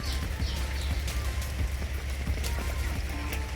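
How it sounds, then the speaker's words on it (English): Light rain falling around Brixham harbour, a steady soft patter with occasional closer drips over a low rumbling background. "It's raining a little and we are looking for the rainbow."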